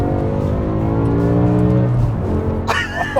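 A dream sports car set to stiff dampers and its most aggressive gearbox mode accelerating hard, a loud close engine roar rising through the revs before a voice cuts in at the end.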